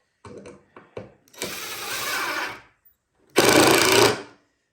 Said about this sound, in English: that way you'll be able to drill it out